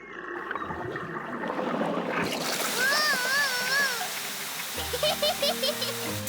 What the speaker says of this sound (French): Peppa tient le tuyau d'arrosage pendant que Papa Pig va ouvrir le robinet.